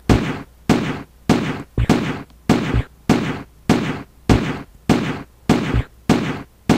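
Rapid, evenly spaced gunshots ring out from a video game firearm, about ten sharp loud blasts roughly every two-thirds of a second, each with a short decaying tail.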